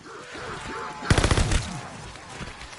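Mosin rifle fire in a shooter video game: a quick cluster of sharp, loud gunshot cracks bursts out about a second in, then fades into softer game ambience and faint voice.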